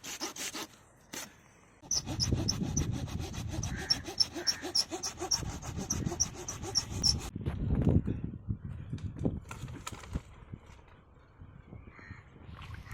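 Small tree being cut by hand with a saw outdoors in sunshine, a close rasping back-and-forth sawing in bursts with short pauses, plus a few knocks.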